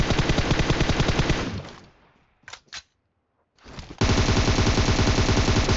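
Full-auto bursts of video game gunfire, loud and close, rattle in a dense stream, break off into a short gap with a couple of sharp shots, then resume in another sustained burst.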